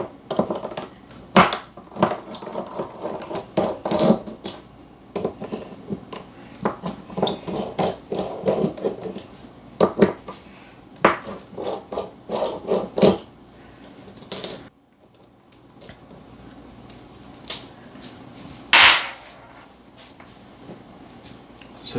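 Coffee grinder burr, a high-tolerance 98 mm burr set tightly in its carrier on a Mizen 98OM grinder, being worked loose with a string of sharp metallic clicks, knocks and scrapes, close and fairly loud, pausing briefly before a final clack.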